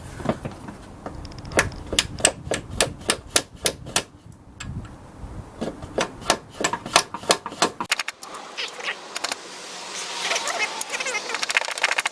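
Sharp metallic taps from a large hammer striking a seal driver tool on a Mitsubishi Galant VR4, in quick irregular bursts, a dozen or so strikes close by, pausing midway, then giving way to scraping and rustling.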